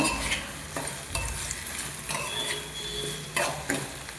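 Food being stirred in a hot pan after a pinch of rock salt goes in, a steady close sizzle with scraping strokes of the spoon and a few sharper metallic knocks, no talking.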